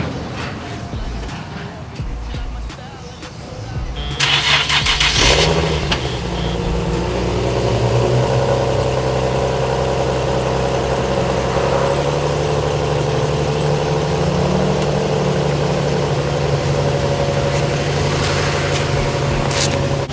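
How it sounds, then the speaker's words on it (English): A Nissan 370Z cold-starts with a cranking burst and a loud flare, then settles into a steady idle with a low rumble, heard close up with some talk at the start. "I already realized I never do cold starts. Let me show you exactly why."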